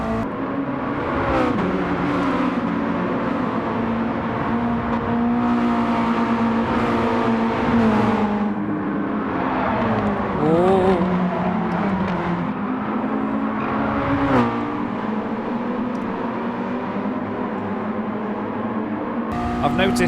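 Car engine in a racing video game droning steadily under load, with pitch shifting up and down as it accelerates and shifts, loud and close, while a person talks over it.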